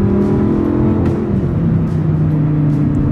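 An Audi R8 engine roars loudly and steadily as the car accelerates, a close, dense growl with sustained tones that shift slightly in pitch over a few seconds, with no talk over it.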